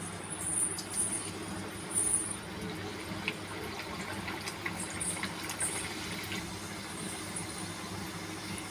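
Dhapate dough balls dropped into hot oil to fry, giving a faint, steady bubbling sizzle with a few soft crackles and no one speaking.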